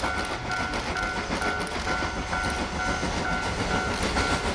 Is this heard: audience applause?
no